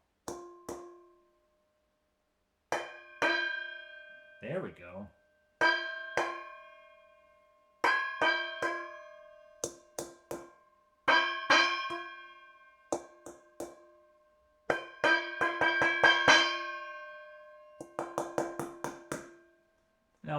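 A found metal object is drummed by hand in short rhythmic bursts separated by silences, each strike ringing with a bright, bell-like resonance and lingering overtones; someone speaks briefly.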